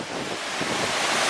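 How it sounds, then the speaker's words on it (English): Dyserth waterfall in a wooded nature setting, a steady, loud broadband rush of falling water close by, constant throughout with no voices. "Okay, so the last look at the waterfall"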